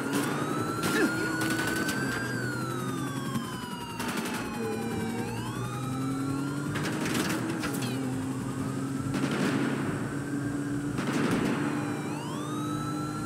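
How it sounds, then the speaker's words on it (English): Wailing police sirens in the video game GTA 5 rise and fall continuously, several overlapping tones sweeping up and down over a steady background rumble of traffic, with no talking. "I also wanted to overhaul the police sirens as well, to make them sound a bit more realistic."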